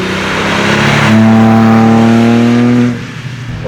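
A 2010 Porsche 997 GT3 RS 3.8 with a manual gearbox runs loud and close, its engine holding a steady rising tone before dropping off sharply near the end.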